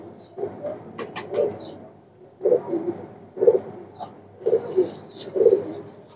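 Saharanpuri pigeons cooing close by in a series of low, throaty calls in repeated bouts with short gaps between them.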